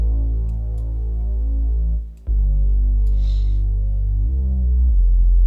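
A deep, throbbing R&B synth bass line from FL Studio plays steadily and loud, its low notes pulsing with only a brief dip partway through.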